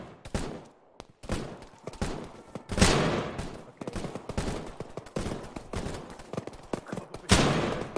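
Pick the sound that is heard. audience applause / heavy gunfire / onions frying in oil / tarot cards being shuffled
heavy gunfire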